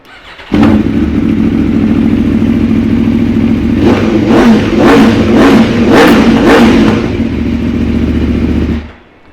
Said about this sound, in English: it sounds mega with an Akrapovic and decat